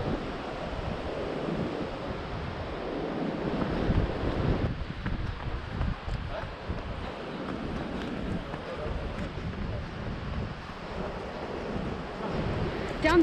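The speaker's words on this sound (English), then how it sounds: "So windy." Strong gusting wind buffeting the microphone on steep, tree-covered Mt Victoria in Wellington, a loud continuous low rumble that surges and eases, with a voice speaking briefly over it.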